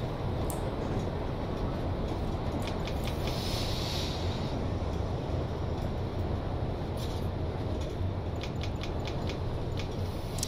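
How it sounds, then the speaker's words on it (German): Steady, loud rolling rumble of a train running through Holzhofen station on the Kerbestrecke route in Train Simulator 2, continuous low mechanical drone with faint high clicks and squeals throughout, no voices. "Hier durchfahren wir jetzt übrigens den Bahnhof Holzhofen."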